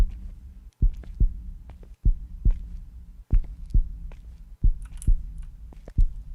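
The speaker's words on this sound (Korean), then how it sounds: "점점 늦춰져 심장 소리가" A steady heartbeat thumps in a slow, paired lub-dub rhythm from the horror video game Precipice, deep and prominent with a low hum underneath and no talking.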